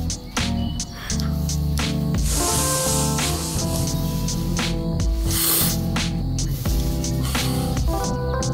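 Matte varnish is sprayed from an aerosol can onto a small hazard-striped model, a loud close hissing in repeated bursts over steady music.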